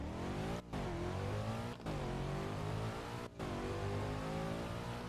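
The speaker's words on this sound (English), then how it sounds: "So here is the revving." A sedan engine in the Driving Empire video game revs steadily and loudly, with three brief cuts in the throttle between sustained high-pitched engine drones.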